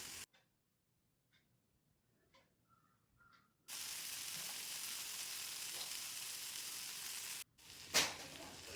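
Pieces of Afghani-style chicken fry in a pan; after a near-silent start with a few faint ticks, a steady, even sizzle begins, cuts out briefly, then resumes with a short sharp spatter.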